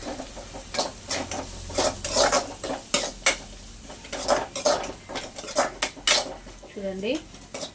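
Onions fry and get stirred in a pan before eggs go in, with a steady run of scraping spoon strokes against metal over a soft sizzle, close and continuous, and a brief voice-like sound near the end.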